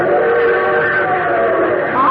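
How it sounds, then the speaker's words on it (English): A train whistle holds a steady, droning tone over rumbling background noise, sounding fairly loud and close. "Your train whistle sounds closer"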